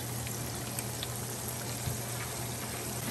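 Fried tomato poppers cook in a pan, heard as a steady, close, dense sizzle and crackle of hot oil with occasional small pops and no talking.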